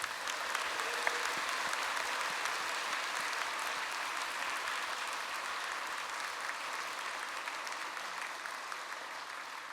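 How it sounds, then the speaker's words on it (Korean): A church congregation applauding steadily for about ten seconds, the dense clapping from many hands sustained at an even level in a large worship space, with no talk over it. "박수 좀 해주세요."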